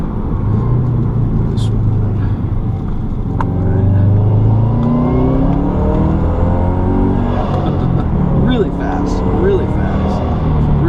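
A 2005 Subaru Legacy GT turbocharged boxer engine revs and pulls hard under acceleration, a loud rumbling drone rising in pitch through several gear changes, heard from inside the cabin.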